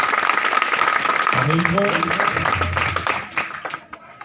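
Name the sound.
audience clapping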